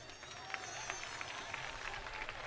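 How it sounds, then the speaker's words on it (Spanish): An audience at a Navarrese fanfare band performance during the 2011 Colectividades festival applauds, a dense wash of crowd clapping with voices mixed in. "¿Quiere más aplausos?"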